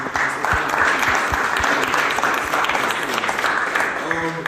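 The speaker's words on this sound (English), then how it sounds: "Big round of applause to all the speakers." An audience at a town hall forum on free college in Philadelphia claps for the speakers, a sustained burst of applause that fades toward the end as a voice begins to speak.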